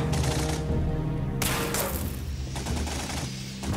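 Rapid bursts of gunfire fill a battle scene from a film about the 1918 Greater Poland Uprising, loud and dense volleys rattling continuously with brief shifts in intensity.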